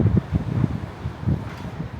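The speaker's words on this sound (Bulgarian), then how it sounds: "Само дето много ни духа вятър, но няма нищо." Wind gusts across a street in the Balat neighbourhood of Istanbul, rumbling and buffeting the microphone in uneven bursts for a couple of seconds, with no voices.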